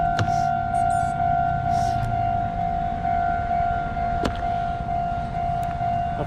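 A railroad crossing signal in Aichi, Japan rings with a steady two-tone alarm, continuous and fairly loud against background road and wind noise, with brief clicks and thumps.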